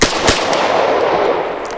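Rapid gunshots from a 5.7 large-format handgun fitted with an aftermarket trigger: loud, close reports fired in quick succession with a dense reverberant wash between the cracks.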